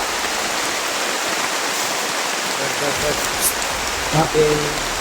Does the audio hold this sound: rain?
yes